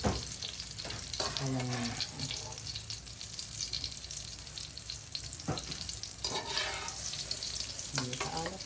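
Eggplant omelette for crispy tortang talong frying in hot oil, a steady close sizzle with bursts of louder crackling and brief scraping, while a voice speaks briefly.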